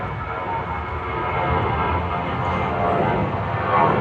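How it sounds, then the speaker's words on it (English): A broad, steady engine roar of an airplane passes, growing slightly louder as it goes, with no talking. "Airplane."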